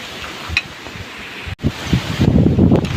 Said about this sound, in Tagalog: Grabe lakas ng hangin, sobra.